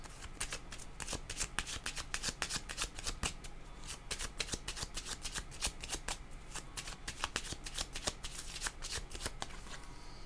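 Tarot cards shuffled close up, a rapid run of crisp riffling flicks and slaps repeating steadily throughout, with no voices.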